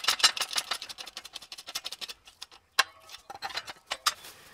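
Rapid clicks and rattling ratchet ticks come from working a hand press, installing a supercharger pulley bearing on a Mercedes SL55 AMG M113K engine, with quick bursts followed by a brief pause and a few sharper clacks.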